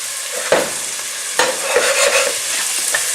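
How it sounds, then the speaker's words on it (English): Steady hissing sizzle of celery frying in a hot pan, with a few clanks and scrapes as it is stirred, close and continuous. "Celery again can take quite a bit of frying"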